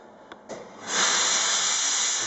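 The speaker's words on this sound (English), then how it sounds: "that gives you a small jet of steam, but a very efficient jet of steam." A Jet Steam Professional steam cleaner fitted with its detailing nozzle opens up to full power, giving a loud, steady, close hiss of steam after a couple of short puffs.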